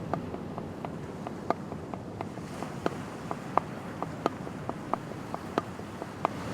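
Single-bass-drum shuffle groove played as a hand sticking pattern with bass drum added, heard as a steady stream of soft, regular taps with brighter accents at even intervals, fairly quiet over a noisy, muffled background with no pedal thump.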